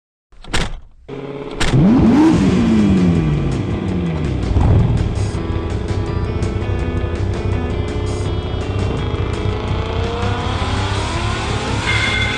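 A car accelerating hard on a test drive: after a brief start-up, the engine climbs in pitch and then holds a loud, steady drone close to the listener, with no talking.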